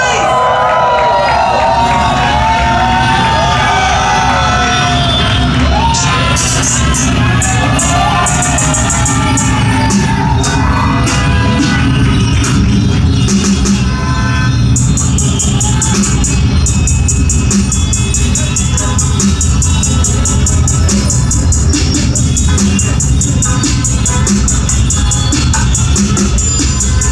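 A live crowd cheers, shouts and whoops loudly to welcome the performers Dhanji and Rasla on stage, a sustained roar of voices with a voice heard over it.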